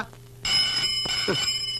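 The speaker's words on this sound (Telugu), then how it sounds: "ఫోన్ మోగుతోంది కదరా బుజ్జి" A telephone rings steadily indoors in a film scene, with a bright, sustained ringing tone that starts abruptly and continues while someone speaks over it.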